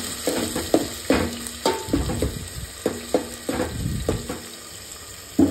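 Tomato sizzling in hot tempering oil in a pan while a spoon stirs, giving repeated clanking scrapes against the metal over a steady fry, close and with no talking.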